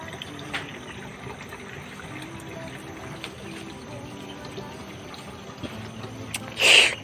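Water flows from a hand-operated pump in a steady, low trickling wash. Faint clanks come through it, and a louder splash or gush arrives near the end.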